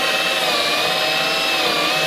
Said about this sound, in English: with the hole saw, I'm going to drill a hole through here